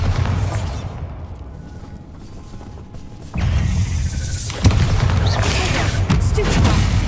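A Bombarda explosion spell from Hogwarts Legacy erupts as a heavy boom midway, followed by rumbling debris and mechanical clatter under sustained game noise and music.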